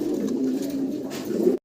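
Pigeons on a pigeon farm give a single close, low throaty coo lasting over a second before cutting off.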